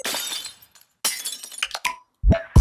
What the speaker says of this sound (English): Maybe a glass hit.